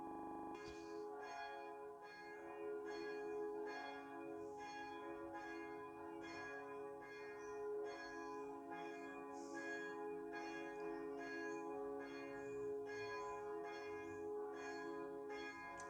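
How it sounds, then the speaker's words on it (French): Church bells ring continuously in a steady, overlapping peal, loud and close with rich sustained tones and no voices. "là, les cloches sonnent, donc je vais couper en attendant"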